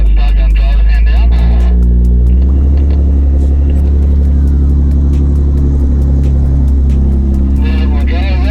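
A 4WD engine rumbles loudly and continuously as the vehicle crawls over a rocky off-road track, with voices giving directions over the low drone.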